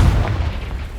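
A rumbling Confringo blast from Hogwarts Legacy, a loud low-heavy explosion with a rolling boom that sustains and slowly decays over a second, no voices.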